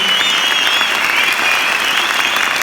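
An audience applauds at the close of a talk by a poet, a dense, steady wash of clapping from many hands, continuous and even throughout.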